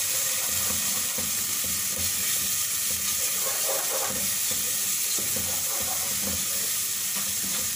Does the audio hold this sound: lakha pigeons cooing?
no